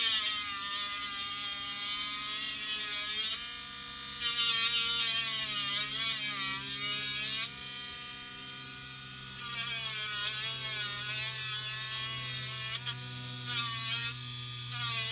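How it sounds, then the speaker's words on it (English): A small handheld motor tool grinds excess resin off a resin figure. It gives a high, steady whirring buzz whose pitch wavers and dips as the bit presses in and lifts, running in several long passes. "I'm just going to grind the rest of that resin off."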